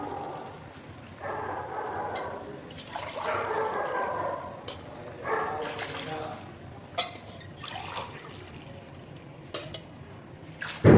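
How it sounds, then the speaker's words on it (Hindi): Water poured into a cooking pot while making pea pulao, a trickling, splashing flow in uneven bursts with a few sharp clinks near the end. "अब हम इसमें शामिल कर देंगे पानी।"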